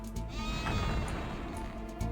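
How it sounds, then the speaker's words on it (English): A sheep in the video game Hexen II bleats loudly and close, one long wavering call that runs nearly the whole moment with no talk over it. "What did that poor sheep do to deserve this?"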